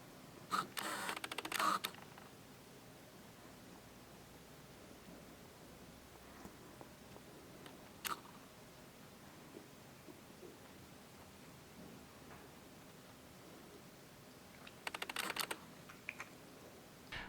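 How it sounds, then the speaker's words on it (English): A Tamron 17-35mm F2.8-4 OSD lens on a Canon 5D Mark IV gives quiet autofocus whirs and clicks in a few short bursts, separated by long near-silent stretches. "if you're making a major focus change, you will definitely hear some whirring and clicking"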